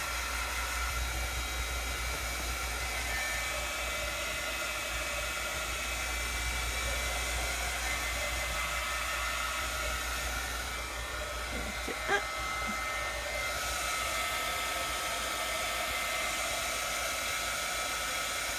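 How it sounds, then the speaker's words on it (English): A heat tool blows hot air in a continuous, steady roaring hiss, close and loud, with a brief faint knock partway through. "So I'm going to use my heat tool."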